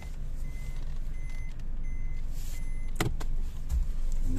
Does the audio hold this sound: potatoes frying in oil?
no